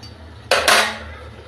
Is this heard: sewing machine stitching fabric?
no